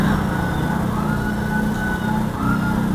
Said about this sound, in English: So once the door sensor is open, you have to trigger the device or the siren